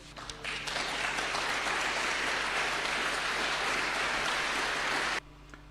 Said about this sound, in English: I don't know if that's worth a round of applause